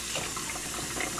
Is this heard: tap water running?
yes